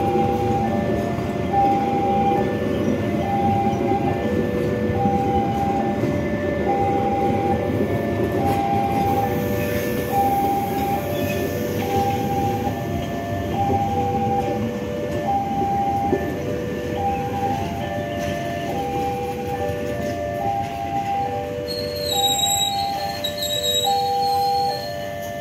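A passenger train hauled by a CC 201 locomotive, with stainless steel carriages built by PT Inka, rumbles past at close range near Yogyakarta station with a continuous rolling roar, while repeated two-tone horn or chime signals sound over it.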